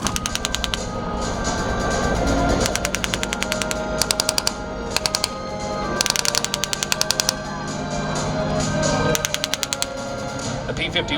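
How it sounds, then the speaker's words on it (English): Simulated .50 caliber Browning machine gun fire during a WWII battle re-enactment at an air show: several loud, rapid rattling bursts over a continuous engine drone, with a voice talking underneath. "followed by the rattle of those 50 calibers tearing through the line"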